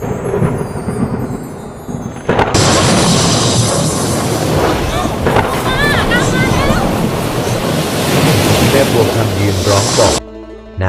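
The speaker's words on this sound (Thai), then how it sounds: "สายน้ำในแม่น้ำโขง เริ่มล้นเข้าท่วมในหมู่บ้านอย่างรุนแรง" Mekong river floodwater surging into a village amid violent gusting wind, a loud roaring rush of water and wind that swells suddenly after a quieter start and cuts off near the end.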